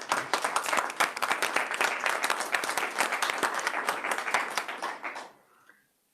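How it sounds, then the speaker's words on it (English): Warm applause from the audience for students at a school board meeting, many hands clapping in a lively, crisp burst that tapers off and ends near the close, with a few faint sounds after. "I would like for all of us to remember why we are here and applaud our students in the room."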